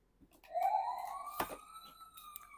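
A toy fire truck siren wails, rising then holding a warbling electronic tone, close and fairly loud, with a sharp click or knock midway and no talk.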